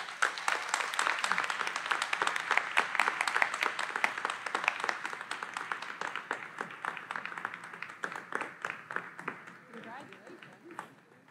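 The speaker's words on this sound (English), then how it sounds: "let's all give Sam a round of applause." An audience at a college baccalaureate ceremony applauds an award recipient, dense clapping that holds steady and then thins and fades toward the end, with some voices mixed in.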